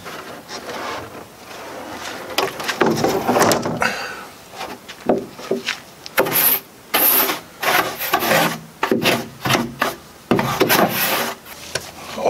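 Dust is brushed and wiped off an epoxy-coated boat roof section, giving loud, close, irregular scraping and rubbing strokes in bursts with short pauses.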